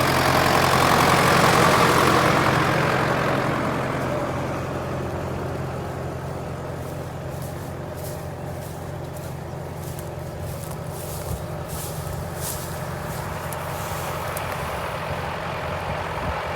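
A farm tractor idles steadily during sunflower sowing work, with a homemade cultivator attached. The low, even engine rumble is loudest at first, then settles to a constant hum with no talking.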